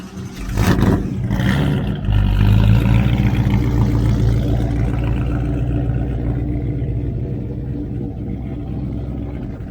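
A Buick's engine at the Hot Rod Power Tour in Nashville revs hard with a sharp burst, then settles into a loud, deep, steady rumble that slowly fades.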